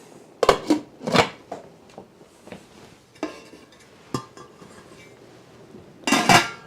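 Metal canning lids set onto glass jars of hearty vegetable beef soup in a home kitchen, a few sharp clinks and clatters spaced apart with quieter handling noises between them.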